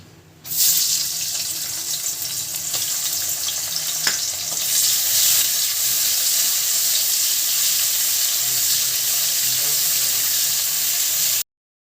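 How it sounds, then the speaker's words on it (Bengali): Onions drop into hot mustard oil in a wok and fry with a loud, steady sizzle that flares up at first and keeps going without a break, with a few faint clinks along the way. "তাতে একটু সর্ষে তেল দিলাম পেঁয়াজগুলো দিয়ে দেবো"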